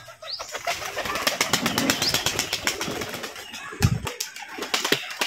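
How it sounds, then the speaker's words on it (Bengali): Pigeons released one by one at a pigeon farm burst into flight, with close, loud rapid wing flapping in repeated flurries and occasional sharp wing claps throughout. "দাদা এক এক করে কবুতরগুলোকে ছাড়ছে।"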